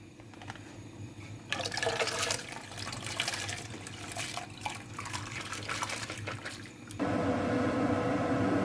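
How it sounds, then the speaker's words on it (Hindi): Lentils for a Kashmiri-style chana and mash dal are added to a pot with water, a close splashing pour that starts abruptly, gurgles unevenly, then swells into a steadier stream. "तो दाल हम जो है ना पतीले में डाल रहे हैं।"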